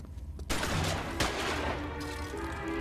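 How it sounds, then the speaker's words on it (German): Rapid bursts of gunfire crackle nonstop after a brief lull, loud and continuous, like a firefight in the video game L.A. Noire. "Okay, jetzt kamen die Schüsse von rechts."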